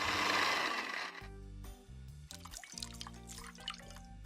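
Vodka free-poured by hand into a Bloody Mary-style cocktail with horseradish and Worcestershire gives a steady liquid splash for about a second, then gives way to background music with faint trickling.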